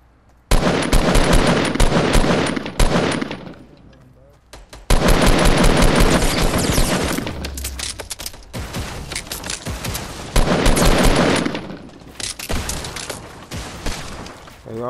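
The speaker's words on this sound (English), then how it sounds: "They all trying to shoot me." Bursts of rapid automatic gunfire from several shooters, loud and close, come in long volleys broken by short pauses, with scattered single shots between them.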